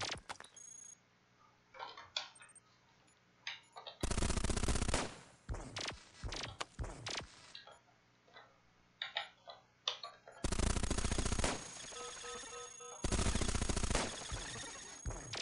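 Gunfire in the sci-fi robot roguelike Cogmind: several loud, dense bursts of rapid shots separated by quieter stretches of ticking interface clicks and beeps, no talk.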